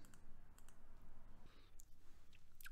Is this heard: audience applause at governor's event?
no